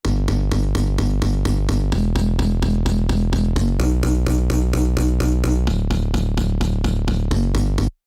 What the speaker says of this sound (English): I ended up doing a bass line at just 1/16th